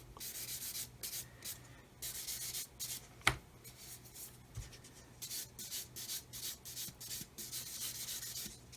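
Sanding a plastic 1/144 Roden C-141B Starlifter model kit, with soft repeated rubbing strokes in bursts, close and quiet, plus one sharp tap partway through.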